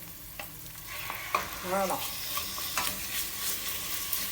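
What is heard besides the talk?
onion frying in oil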